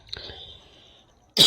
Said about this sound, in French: Excusez-moi, ma toux est revenue.